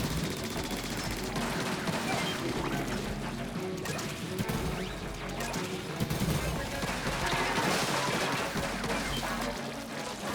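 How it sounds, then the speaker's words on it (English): Dense, continuous barrage of bursts and crashing impacts from Splatoon 3 Big Run gameplay, Dualie dodge-roll explosions layered over busy game noise at a steady loud level throughout. "It's just the explosion, just because it's so good to do that dodge roll."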